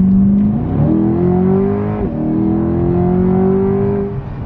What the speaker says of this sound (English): I think the intake noise sounds a little bit different